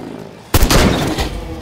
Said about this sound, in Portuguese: Se eu tiver sorte, eu consigo dar outro headshot nele antes de vir pra mim.